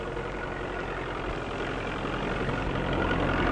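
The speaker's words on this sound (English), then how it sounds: "A 4-furrow tractor-drawn plow can plow up 8 acres a day" A 1940s tractor drawing a four-furrow plow across an English field runs steadily, a continuous low rumbling engine drone heard from nearby on an old, noisy recording with no speech.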